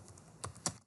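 Two crisp keystrokes on a computer keyboard during data entry in QuickBooks, quiet and close, with a faint click or two before them and no speech.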